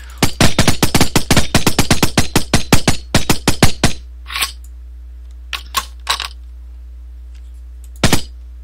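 An MP5 submachine gun in Minecraft Flan's Mod fires a rapid, loud string of about two dozen sharp shots, then falls silent except for a few scattered single bangs and thuds.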